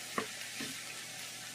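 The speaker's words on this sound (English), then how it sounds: "And we'll come back to sauteing our veg." Vegetables and peppers sautéing in a pan, giving a brief soft sizzle with one quick stir clack early on, faint and close, with no talk.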